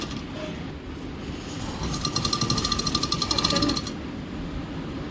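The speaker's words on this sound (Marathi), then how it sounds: "आता पडद्यावर उलट्या साईडने ठेवून मी शिलाई मारून घेते." A sewing machine stitches a door curtain in a short burst of fast, even mechanical tapping, close and clear against a steady background hum.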